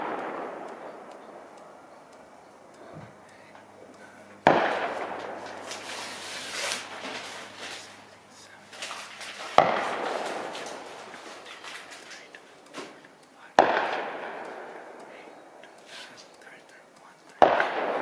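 Sharp gunshots from an M1A Loaded .308 stainless rifle with a Krieger barrel at a rifle club range, four loud cracks spaced several seconds apart, each with a rolling echo and quiet murmuring between.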